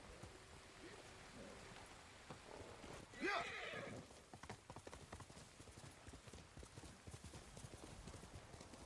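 Horse hooves clip-clopping at a steady gait while riding in the video game Ghost of Tsushima, with a loud whinny midway and rain falling throughout, close and continuous.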